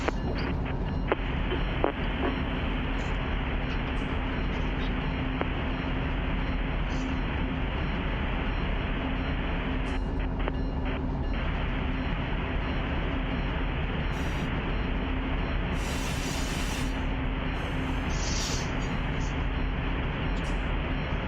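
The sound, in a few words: passing locomotives of an intermodal train in the RUN8 train simulator video game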